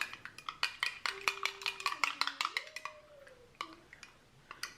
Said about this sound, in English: So I just have a honey mustard marinade. Just gonna mix this up.